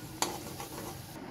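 French fries fry in a pan at home, giving a soft steady sizzle with one brief clink of a utensil near the start.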